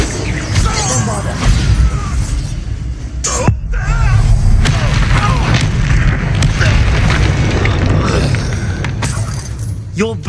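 A Bombarda spell in the video game Hogwarts Legacy goes off as a deep booming explosion with shattering debris, followed by rumbling impact noise, with voices speaking through the combat.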